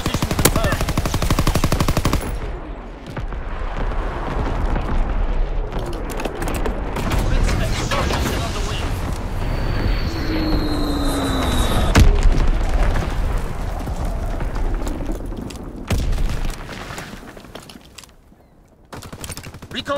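Heavy artillery barrage mixed with rapid machine-gun fire in Call of Duty: WWII multiplayer search and destroy, loud and continuous with booming impacts and crackling bursts, a radio-style voice talking over it, fading near the end.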